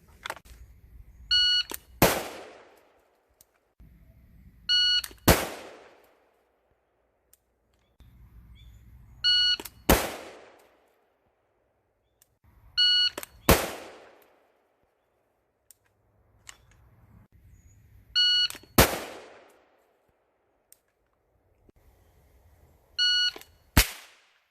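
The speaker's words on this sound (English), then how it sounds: "on the sound of the shot timer, I'm going to drop down and fire one shot" Six rounds of a shot timer's high electronic beep, each followed by a sharp crack from a .22 AR trainer rifle, repeating every four seconds or so with quiet between.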